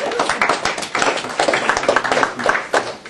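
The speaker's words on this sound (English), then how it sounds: "I think we should applaud ourselves for at least getting past it" Audience at a forum on women and political power breaking into applause, uneven, fairly close clapping with distinct individual hand claps standing out in the rhythm.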